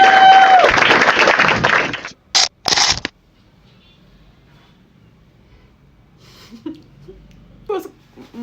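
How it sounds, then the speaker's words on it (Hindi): Audience applause at a stand-up comedy show, a loud burst of clapping and cheering for about two seconds, then short sharp bursts and near silence with faint scattered sounds. "और एक बार गौरव भाई के लिए ताली बजाओ।"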